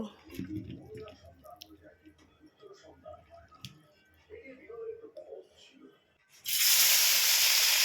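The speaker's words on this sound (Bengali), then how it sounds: "এবার তেল দিয়ে ভাজবো সবজির তরকারিটা তো হয়ে গেছে এবার কড়ায় তেল দেব" Oil hitting a hot wok (kadai) for frying after a vegetable curry bursts into a loud, steady sizzling hiss that fills the last second and a half, following quieter kitchen clatter and voices.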